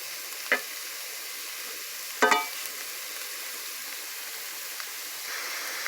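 Mushrooms sautéing in a pan for creamy pasta, a faint steady sizzle under a low hiss with a couple of sharp utensil clinks against the pan, quiet and close.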